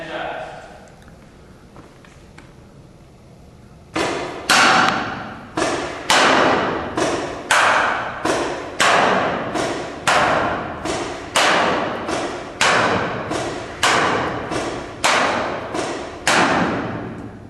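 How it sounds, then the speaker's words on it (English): Ten shots from a GI Micro 50 caliber paintball-style marker fired at a target about 102 feet away, sharp thumping pops at an even rhythm, each followed by a short decay, after a few quiet seconds. "GI Micro 50 caliber from about 102 feet"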